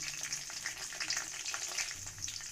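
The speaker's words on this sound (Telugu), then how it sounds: "ఒక ఎండుమిర్చి వేసుకుని ఫ్రై చేసుకోవాలి." Chana dal, mustard seeds, ginger and green chilies frying in hot oil give a steady, soft sizzle with faint crackles and spattering pops running throughout.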